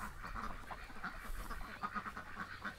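Ducks quack in a backyard, a cluster of short nasal calls repeating in quick irregular bursts, soft and fairly close with low background rumble.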